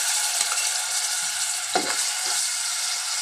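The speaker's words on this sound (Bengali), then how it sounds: "এখন আমি পরিমাণ মতো তেল দেব, দিয়ে এর মধ্যে আমি মাংস কুচিটা দিয়ে দেব।" Finely chopped beef fries in oil in a hot frying pan, giving a dense, even sizzle with a couple of soft stirring knocks.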